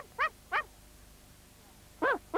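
Tubby the cartoon dog barks in four sharp, yappy bursts, two close together, a pause, then two more, loud and clear against near-silence.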